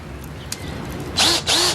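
Bosch lithium-ion cordless drill in a TV commercial, two loud close whirring bursts that spin up and cut off one after another, following quieter ad sound.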